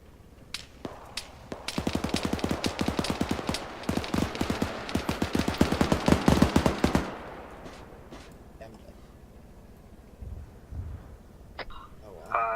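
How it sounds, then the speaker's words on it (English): Gunfire in an Arma 3 battle as people shoot at the listener's position: a few isolated shots, then a long loud run of rapid automatic bursts for several seconds, fading to quieter scattered sounds and faint voices afterward. "that's people shooting at us"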